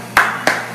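Three sharp hand claps ring out at an even pace during a live cosmetic surgery broadcast, close and distinct with brief gaps between them.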